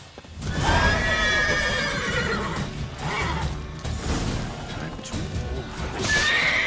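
A horse whinnies loudly and repeatedly in The Witcher 3, with clip-clopping hooves and a sharp thwack of a blow, close and prominent in the game.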